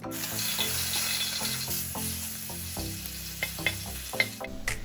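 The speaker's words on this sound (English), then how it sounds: "as soon as the garlic sizzles," Garlic sizzling hard in a drizzle of oil in a heated wok, a loud steady crackling hiss with scattered spatters and occasional scraping of a utensil.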